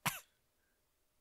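A single short, close cough, a quick throaty burst that fades into near silence, in a room on a smoky evening.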